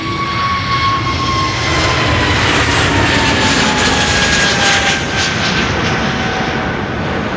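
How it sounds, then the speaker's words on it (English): An Airbus A320neo jet roars loudly on its takeoff run from the Polderbaan runway at Amsterdam Schiphol, a steady, broad engine rush with a rising whine that holds strong throughout. "It's an A320neo."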